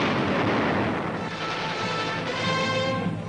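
A barrage of 4.2 mortars firing in heavy snow, a continuous dense rumble of blasts blending into a steady roar, loud and unbroken throughout.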